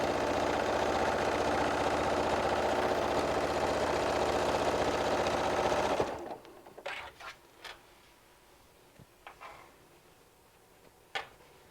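A sewing machine stitching a walker bag runs steadily with a loud, continuous mechanical whir for about six seconds, then stops, leaving only faint scattered handling clicks and rustles.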